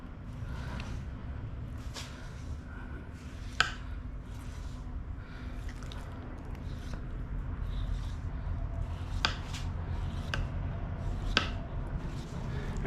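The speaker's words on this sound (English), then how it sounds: "we're gonna score the fat cap because it looks cool" A knife scores the fat cap of a pork butt, with a series of sharp, scattered cutting clicks over a low, steady background hum.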